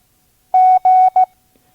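Morse code letter G keyed at five words per minute for a vintage ARRL listening course, two long steady tones followed by one short beep, clean and close with silence around it and no talking.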